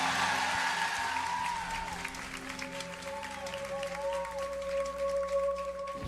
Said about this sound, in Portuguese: E agora, gente, com uma salva de palmas